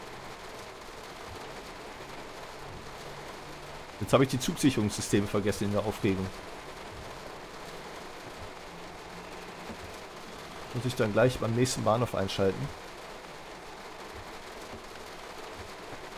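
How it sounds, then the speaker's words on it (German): Heavy storm rain in Train Sim World 3 on the Ruhrlauf route near Wuppertal-Unterbarmen, with a BR 422 train: a steady, even hiss runs throughout while someone speaks in two short stretches. "Ihr seht, es ist ziemlich heftig am Regnen."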